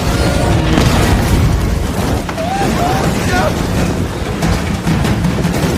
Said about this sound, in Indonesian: sementara Paul meledak bersama makhluk-makhluk tersebut